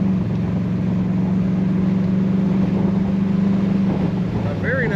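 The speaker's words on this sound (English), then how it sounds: "Very nice rumble coming out the back tailpipe of this car" A 1972 Oldsmobile Cutlass 442 convertible idles with a steady low exhaust rumble from the tailpipe, constant and close, with wind buffeting the microphone.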